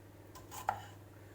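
A single quick knife chop through green tomatoes lands on a board, with a brief scrape just before it, in a quiet room.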